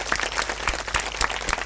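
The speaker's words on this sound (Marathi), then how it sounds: "म्हणून जोरदार टाळ्या वाजवून यांचं" An audience at a Marathi Varkari kirtan breaks into brisk, dense applause to welcome guests, many hands clapping close and steady for a short stretch.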